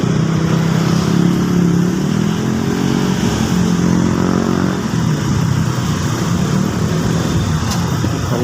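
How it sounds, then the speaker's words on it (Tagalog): Busy street traffic in Valencia, Negros Oriental, packed with motorcycles: loud, close engine drone and revving of passing bikes and cars, a continuous rumble without a break. "Ang daming motorsiklo dito."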